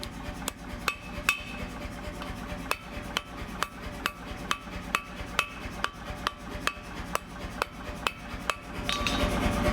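Hand hammer striking hot Damascus steel on an anvil at the forge, sharp ringing metallic blows in an uneven rhythm, mostly single hits with a few quick doubles, up close over a low steady forge roar.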